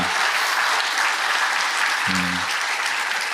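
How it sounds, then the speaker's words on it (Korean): Church congregation applauds in encouragement for the young children at a Sunday worship service, a steady wash of many hands clapping filling the whole stretch at even volume. "우리가 한번 격려의 박수 한번 올려드리도록 하겠습니다"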